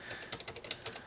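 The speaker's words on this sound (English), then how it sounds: "you can hear that's my keyboard, and I'm tapping WASD" Rapid light taps on a computer keyboard as the W, A, S and D keys are pressed, about ten quick clicks in an uneven rhythm, close and fairly quiet, with no voices.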